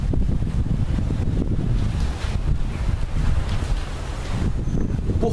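Wind buffets the microphone outdoors as a steady, loud low rumble that fills the whole stretch with continuous gusting. No one talks.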